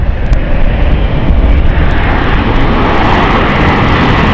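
Aircraft landing on runway 27 at London City Airport in rough conditions, a loud close engine roar and rushing noise held steadily throughout, with no voices.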